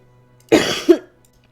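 Two sharp, close coughs in quick succession, the second throatier, in an otherwise quiet room.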